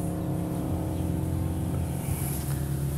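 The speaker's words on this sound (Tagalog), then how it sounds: "medyo maingay po tayo kasi nandito lang po tayo sa may tabi ng kalsada" Steady roadside traffic noise, a continuous rumble of engines with a vehicle passing, no voices.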